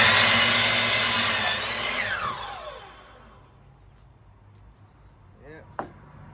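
Power saw cutting through pallet board wood for stool braces, a loud whining cut for about two seconds that winds down as the blade spins to a stop, followed by quieter handling noises.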